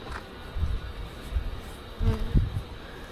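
Honeybees in a weak hive hum in a low, steady drone, with a few louder buzzing bursts as single bees pass close.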